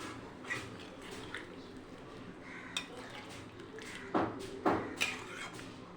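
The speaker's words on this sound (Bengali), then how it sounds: "জল দিয়ে দিয়েছি, একটু নাড়াচাড়া দিয়ে দেবো, দিয়ে ভালো করে জাল দিয়ে নেব" A spoon stirs chicken curry in a pot with added water, producing soft scraping, clinks against the metal and wet squelches that come in irregular bursts, the louder clanks arriving near the end over a low background.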